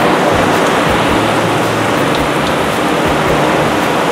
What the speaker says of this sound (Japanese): すごい雨だよ海